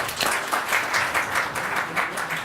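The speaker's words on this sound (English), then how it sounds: "let's give him a big round of applause" Audience applause at a business summit speech, a sustained wash of many hands clapping that stays steady and fairly loud throughout, with no voices over it.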